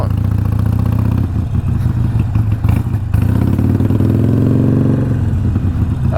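A 2017 Harley-Davidson Iron 883 motorcycle runs loud and close, a continuous heavy engine rumble that dips briefly and then rises and falls in pitch as the throttle changes, with no talking.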